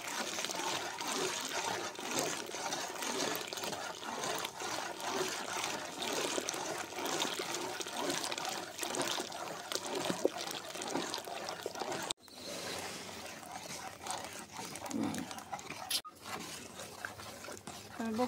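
Rice flour batter poured in a thin stream into water and stirred for rice papdi, giving a continuous soft trickling and swishing that runs throughout, close up, with a short pause partway.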